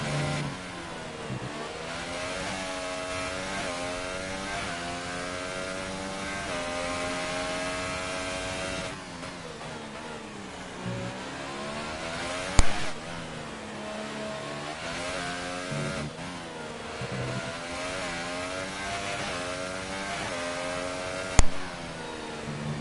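An F1 car in the F1 2018 racing game runs a lap at Abu Dhabi, its engine note rising and falling steadily through gear changes, with two brief sharp clicks partway through.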